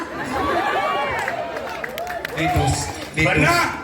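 A crowd at a Balinese Calonarang ritual performance claps and cheers in a loose, swelling burst, while voices and chatter run over it almost throughout.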